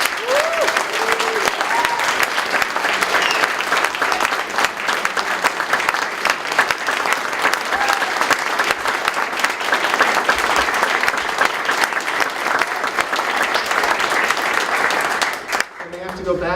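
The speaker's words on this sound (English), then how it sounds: "So please give them an applause for their incredible hard work." Crowd at a healthcare rally breaks into loud, dense, sustained applause that goes on for about fifteen seconds before cutting off abruptly.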